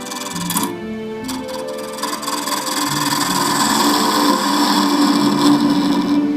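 A lathe spinning at about 1360 RPM trims the end of an epoxy resin shaving-brush handle blank, a steady close hum with a rising, scraping cutting tone and a few sharp ticks at the start.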